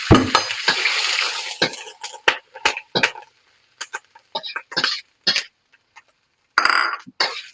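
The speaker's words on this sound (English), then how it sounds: "Now put in our dry shrimp and scallop." Dry shrimp and scallop go into hot oil in a wok, giving a burst of sizzling followed by a series of sharp scrapes and clatters from stirring, with short quiet gaps between them.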